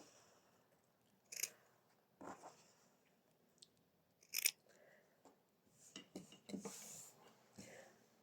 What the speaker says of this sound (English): Trim the corners a little bit like that.